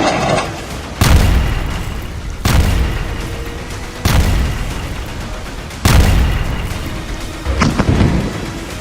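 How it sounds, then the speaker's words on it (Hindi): Several heavy booming blasts from airstrike bombs, about five, spaced a second or two apart, each a sharp loud impact followed by a rumbling decay. "इजरायल के तूफानी हवाई हमलों में बमों के धमाके ऐसे इमारतों को उड़ा रहे हैं"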